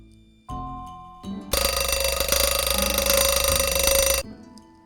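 An alarm clock rings in the Nancy Drew game The White Wolf of Icicle Creek: a loud, continuous electric bell-like ring lasting about three seconds, with brief softer tones before it and no voices.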